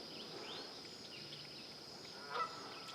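Faint, distant honking from waterfowl outdoors, a couple of short calls rising near the end over a steady background hiss.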